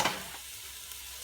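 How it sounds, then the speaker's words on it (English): Peppers sauté in a pan with a faint, steady sizzle and a short stirring burst at the start, heard alone. "So I'm going to saute this, turn the heat up a little bit."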